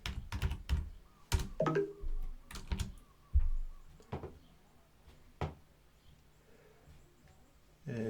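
Fingers type on a computer keyboard, producing a sparse run of sharp, close key taps that come in small clusters with gaps. Louder strokes begin the sequence and lighter ones follow, with no speech over them.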